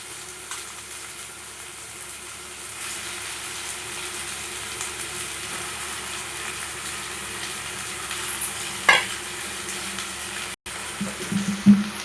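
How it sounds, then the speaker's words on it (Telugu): Washed prawns sizzle in hot ginger paste in a pan, a steady close frying hiss with a few brief clinks and stirring sounds. "ఇప్పుడు రొయ్యలు కడుక్కున్నవి వేసుకోవాలి."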